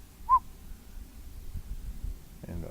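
A lone person whistles one short, clear tone at night in imitation of a whistle, brief and fairly close, then fading into quiet outdoor background rumble.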